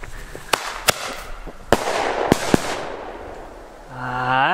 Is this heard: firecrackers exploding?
yes